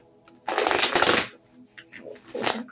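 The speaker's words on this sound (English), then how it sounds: "let me just shuffle a couple of times" A Light Seers Tarot deck shuffled by hand, two close bursts of riffling card noise, the first longer and louder, the second shorter.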